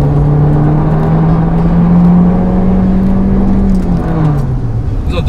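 A Honda CR-V's 1.5-litre downsized turbo engine pulls hard under acceleration, a loud, steady droning hum rising slightly in pitch, heard from inside the cabin without speech.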